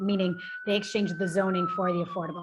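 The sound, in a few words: sirens in the background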